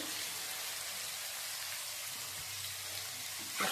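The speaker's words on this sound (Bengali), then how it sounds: "সয়াবিনটাকে ভেজে নেব, ভালো করে একটু ভেজে নেব।" Soybean chunks fry in hot white oil in a home kitchen, giving a steady, hissing sizzle that stays even throughout with no voices, ending in a slight bump of noise.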